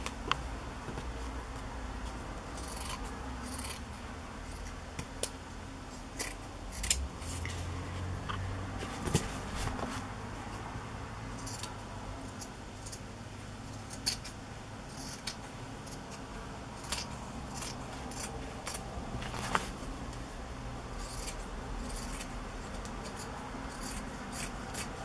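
Scissors trimming scraps of kantha quilt fabric, heard as a long run of soft, close snips and rustling cloth at an uneven pace, with occasional sharper clicks.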